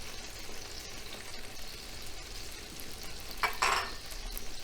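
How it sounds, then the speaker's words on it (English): Tomato with hot pepper flakes sautéing in a pan for linguine with shrimp, a steady close sizzle with a brief louder burst of spattering near the end, no one talking. "now the tomato is nice saute"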